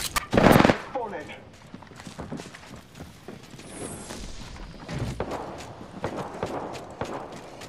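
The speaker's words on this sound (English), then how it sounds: "Shot fired. Contact with hostile." Gunfire rings out in the Apex Legends video game, opening with a loud, close burst. Lighter shots, impacts and other game sounds follow, with a voice speaking now and then.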